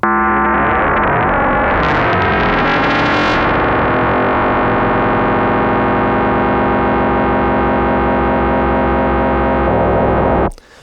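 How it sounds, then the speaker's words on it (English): A loud, distorted synthesizer tone from Ableton's Operator with harmonics sweeping down and up in a wobbling wow, settling into a sustained buzzing drone before cutting off abruptly. "we're going to have this wow sound"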